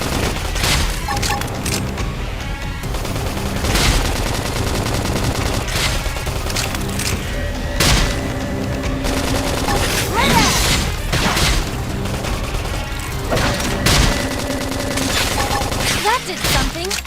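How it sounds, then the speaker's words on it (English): Rapid bursts of gunfire and explosions from combat in Xenoblade Chronicles X: Definitive Edition, loud and continuous amid clanking mechanisms and crashes, with voices calling out over the battle. "I'll topple you with gunfire!"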